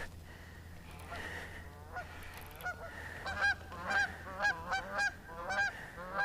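Geese honking near a pond while ice-out catfishing, a repeated series of loud nasal honks that builds in the second half, with the calls coming in quick irregular bursts.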